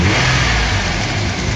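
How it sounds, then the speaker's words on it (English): A van engine held at a set high idle while jump-starting gives a close, steady, fast-running roar. It holds level through the short stretch, with no talk. "Now we're gonna engage high idle on the van."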